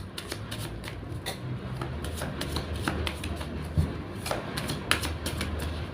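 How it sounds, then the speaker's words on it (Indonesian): Tarot cards being shuffled by hand, a close, steady run of crisp riffling and slapping card sounds with quick irregular taps, no speech. "Saya shuffle terlebih dahulu."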